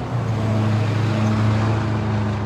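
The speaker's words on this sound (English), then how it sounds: "We'll just wait for that loud truck." A loud truck idles or rumbles steadily nearby outside a church service, a deep engine drone with strong low harmonics holding at constant volume throughout, with no talking.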